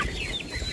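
Chickens on a backyard farm cluck softly and continuously nearby, low murmuring fowl sounds with occasional brief higher calls, no talk over them.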